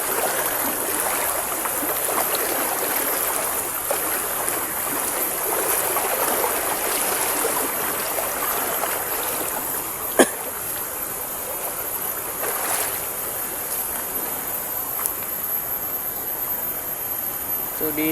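Deep river water rushes steadily and close by, a continuous full-bodied flow that never lets up.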